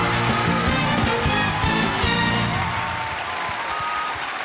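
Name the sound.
audience applauding the 12 selected Miss candidates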